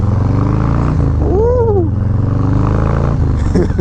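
A 2020 Harley-Davidson Low Rider S motorcycle rumbles loudly and continuously at close range as it is ridden, the engine note rising and falling, with a brief whooping shout from the rider.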